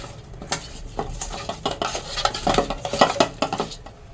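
Fish pieces are worked by hand with salt and turmeric in a bowl or pan, giving soft, irregular squelching and clinking knocks that build toward the middle, close by, with no voices.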